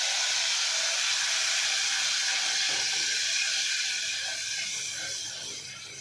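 Grated tomato gravy poured into a hot pan of sautéed garlic gives a loud, steady hiss of sizzling that holds for several seconds and slowly fades toward the end.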